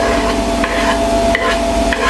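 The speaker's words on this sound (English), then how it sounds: "Hear it sizzle." Onions and peppers sizzle steadily in warm oil in a pan, a dense, continuous frying hiss held at a fairly loud level throughout, with a few brief stirring scrapes and no voices.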